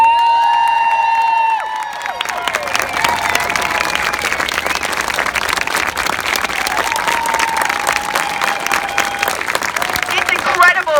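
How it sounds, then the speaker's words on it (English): Crowd applause and cheering at a gun violence prevention rally in Illinois, rising after a speaker's voice and continuing as a dense, steady ovation with scattered whoops. "Let us honor them right now with applause."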